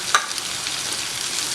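Tomato sizzles in a pan with onion and garlic for a spicy chutney, a steady close hiss of frying with a brief scrape of stirring near the start, no voices.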